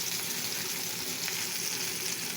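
Meat searing in a hot pan, a steady close sizzle running unbroken for a couple of seconds with no talk over it.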